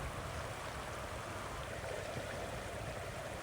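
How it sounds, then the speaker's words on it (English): The Snake River flows in a continuous soft rushing wash as someone wades across it. The sound is faint and steady, with no voices. "Courtney's making her way across the Snake River."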